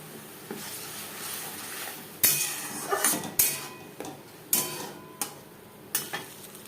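Tomato paste with ginger paste and chili paste frying in hot refined oil, a soft continuous sizzle broken by several sharp clinks and scrapes of a spoon stirring against the pan.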